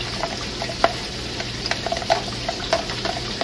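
A teaspoon stirring a thin mixture of flour and a little cold water for country fried chicken batter, with soft scraping and light clinks coming in small irregular taps over a steady kitchen hiss.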